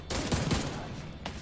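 A brief, dense burst of rapid gunfire rattles through a co-op firefight in The Division 2, loud and close, fading quickly.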